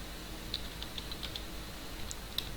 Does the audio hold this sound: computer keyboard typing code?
yes